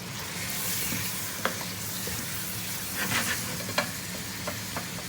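Chicken for biryani fries over a high flame in a pan with a continuous close sizzle. Occasional scrapes and clinks of stirring punctuate the hiss, and no one speaks.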